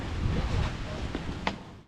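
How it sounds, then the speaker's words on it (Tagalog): Strong wind sweeping across Tangkahan Island in Balabac, a continuous loud rushing roar buffeting the microphone, with surf-like noise underneath and a few faint, brief sounds near the end. "I'm not sure kung naririnig nyo ako dahil ang lakas ng hangin"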